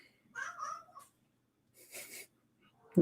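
A cat makes a short, squeaky vocal yawn, followed by a soft breathy exhale and a sudden bump at the end; quiet and close.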